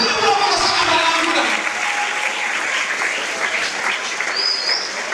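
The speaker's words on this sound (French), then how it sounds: "J'aimerais qu'on acclame." Congregation applauding and cheering in a church service, a dense, steady wash of clapping that fills the whole stretch at close range without pause.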